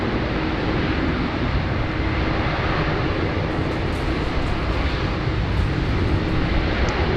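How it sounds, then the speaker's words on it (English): An American Airlines Boeing 787 Dreamliner at Sydney Airport gets underway with a loud, steady, broad engine roar that stays constant throughout, with no voices. "getting the American Dream liner underway."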